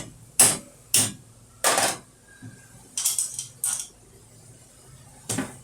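Six sharp metallic hammer strikes at irregular intervals, close by, during teardown of a Motorcraft 2150 carburetor, each ringing briefly before fading, with quiet gaps between.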